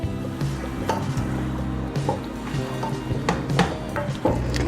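Radish pods, about a kilo of home-grown moongre, are stirred into spices in a pan for an aloo moongre sabzi, giving steady close sizzling with scraping and clinks of the spoon against the pan throughout.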